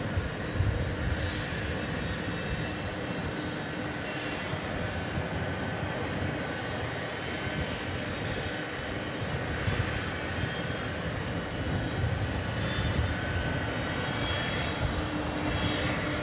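An ABX Air aircraft, mostly white livery, operating at DFW airport at night, gives a steady, moderately loud jet engine roar that holds constant throughout with broadband rumble, no voices.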